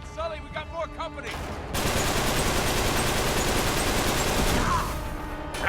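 Grenade launcher fire in a video game: a dense, loud roar of blasts and rapid gunfire that fills several seconds, following a brief stretch of speech and game sound.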